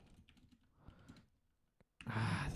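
Fingers tap on a short computer keyboard in irregular bursts of quiet clicks, close by, followed by a louder rustling clatter at the end.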